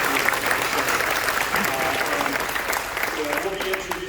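Audience applause at a museum event, steady clapping from a large crowd filling the whole stretch at an even, fairly loud level, with some voices mixed in.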